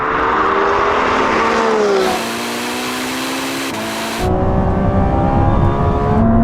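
Lamborghini Revuelto, Ferrari SF90 and Porsche 918 Spyder supercars launching hard side by side, a loud sustained engine roar with rising pitch as they accelerate, shifting gears and fading briefly before surging back even louder.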